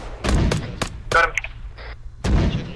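Several sharp booms of mortar and gunfire in the Arma 3 military video game, a quick run of hard hits followed by a pause and one more heavy blast, loud and close.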